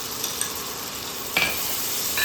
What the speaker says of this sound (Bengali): দইটা দিয়ে নাড়াচাড়া দিচ্ছি।